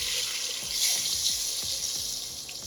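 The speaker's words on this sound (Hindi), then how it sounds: "और साथ ही इसमें शामिल करेंगे पानी।" Water pours steadily into a pan of sugar for sweet vermicelli (meethi seviyan) on a home stove, a continuous close splashing hiss with no talk over it.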